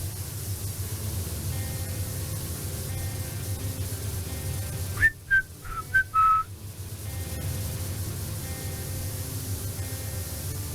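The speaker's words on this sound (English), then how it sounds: "Gonna blow my whistle, baby, here we go." A whistle is blown in a few short, sharp toots lasting about a second and a half, cutting over steady background noise from a power-washing video game.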